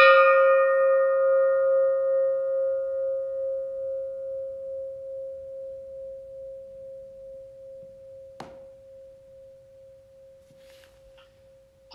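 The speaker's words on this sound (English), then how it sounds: "that was a recording of the Alpine Club Everest Gong" The Alpine Club's Everest gong rings out with a single long, resonant tone that slowly fades over about twelve seconds. A sharp, faint tap is heard near the end.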